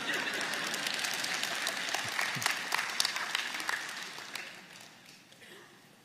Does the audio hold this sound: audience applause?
yes